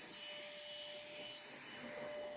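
A vacuum cleaner runs steadily at close range in a home with cats, a broad continuous whooshing hum with a thin high whine on top, holding level for the whole stretch with no voices.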